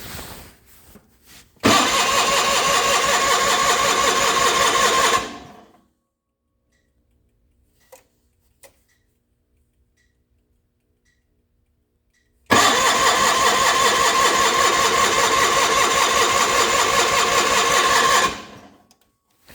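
Gasoline John Deere 420 tractor engine cold-starting hard: two long, loud cranking-and-running bursts of steady mechanical clatter with a silent gap between, close up.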